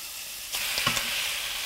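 Already cooked whole wheat pasta goes into a hot pan, a sudden burst of sizzling and spattering about halfway through that settles into a steady fizz, faint and close.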